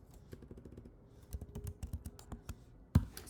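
Rapid clatter of keys as code is typed on a computer keyboard, irregular bursts of clicks with a sharper thump near the end, close and fairly quiet, no voices.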